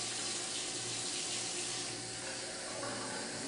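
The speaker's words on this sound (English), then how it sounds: "we're going to use our tap water" Tap water runs steadily from a kitchen faucet, a continuous broadband rush of water filling a glass for a chlorine test, close and alone with no talking.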